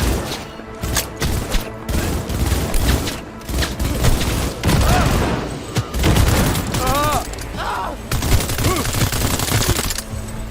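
Dense, chaotic gunfire erupts almost without pause in a Cyberpunk 2077 firefight during the Hanako Arasaka mission, loud and close, with bursts, booms and voices shouting through it.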